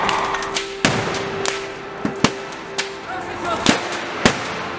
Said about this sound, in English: a powerful explosion occurred at a fireworks store in Winnijersey